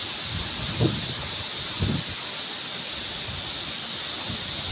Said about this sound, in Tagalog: Grabe lakas talaga ng hangin no.